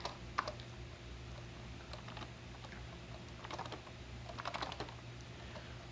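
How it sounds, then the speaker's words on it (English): Quiet keystrokes clatter in irregular bursts on the keyboard of a Tandy Model 102 laptop serving as a serial terminal, close and soft with brief pauses between runs of typing. "all this is being typed from the Model 102's keyboard across that serial cable"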